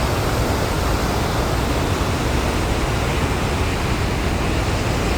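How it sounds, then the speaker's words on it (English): A constant, dense roar of Niagara Falls, loud and unbroken like broadband noise, with no other sounds standing out. "Oh, that's a big waterfall right there."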